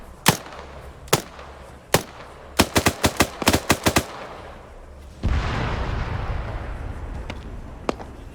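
Gunfire in the military video game Zeus OP: several spaced single shots, then a quick run of close rapid bursts, followed by a heavy rumbling blast that trails off into noise.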